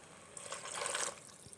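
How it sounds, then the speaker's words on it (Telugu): Water poured into a pan of masala-coated pasta, a steady near splashing pour lasting about a second, then quiet. "ఇప్పుడు దీంట్లో తగినంత వాటర్ పోసుకుందాం."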